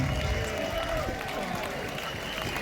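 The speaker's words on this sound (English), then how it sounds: "I want to give him a massive round of applause because he's been brilliant." A crowd at an outdoor demonstration in London gives a dense, continuous round of applause, broad and noisy, with cheering mixed in throughout.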